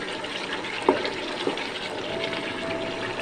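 Hot water pours steadily into a pot of half-cooked chicken curry with tomatoes and spices, a continuous close splashing rush with a few small bumps from the pot.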